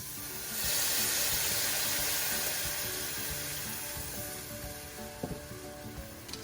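Beef broth poured into a hot pan for an open-faced roast beef sandwich sets off a steady, fairly quiet sizzle and hiss that swells early, then settles, with a few faint clinks and scrapes near the end.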